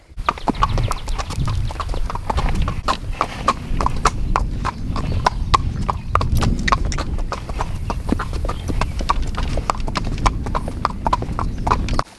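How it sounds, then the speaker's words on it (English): Horses walking on ground, hooves clip-clopping in a brisk, steady rhythm close by, continuing throughout; a faint chicken cluck may be present in the background. "I'm gonna take these other two horses down by the river where there's some great grass"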